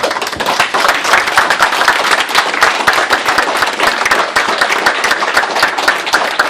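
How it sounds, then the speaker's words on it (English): Dense, steady applause from a graduating class and audience at a leadership program graduation ceremony, loud and sustained throughout without pause. "I ask our class to please rise and give a round of applause."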